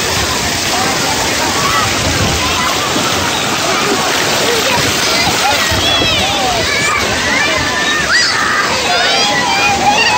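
A young child swims and splashes in a pool, producing steady sloshing and splattering water close by throughout, with adult voices speaking over it.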